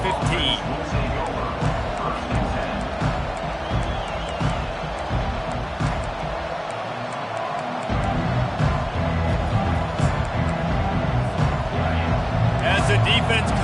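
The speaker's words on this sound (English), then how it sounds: "listen to the roar of this crowd" A stadium crowd in an NCAA football video game gives off a steady, dense roar that continues for the whole stretch and sits under play-by-play commentary.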